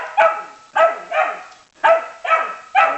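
A dog barks repeatedly while meeting turtles, five sharp barks in two quick groups separated by a brief pause, loud and close with no other sound.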